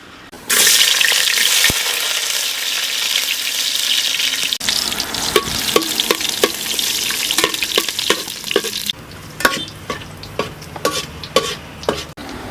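Chopped hill garlic frying in sesame oil with fennel seeds, a loud steady sizzle for several seconds that gives way to a quieter crackle, with repeated sharp clinks of a spoon stirring the pan.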